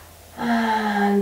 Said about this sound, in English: One more time, big breath in.